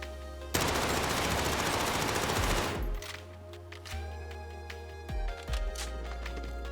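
The Cold War MP5 submachine gun in Warzone fires a dense, loud continuous burst for about two seconds, followed by a few short bursts and scattered shots with ringing tails.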